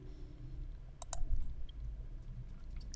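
Two faint, sharp mouse clicks come close together against a quiet background while Windows 10 setup runs in a virtual machine.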